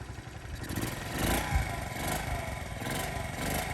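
A 1973 Honda Z50 Monkey Bike, started cold by kickstart, runs at a fast, uneven putter, its small engine close and fairly quiet, with one brief thump partway through.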